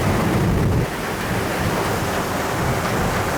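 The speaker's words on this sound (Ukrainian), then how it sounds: "а я зараз піду підзніму вам трішки атмосферної зливи" Heavy, steady rain with a low thunder rumble, a dense continuous roar that stays loud throughout, with a slight dip near the start.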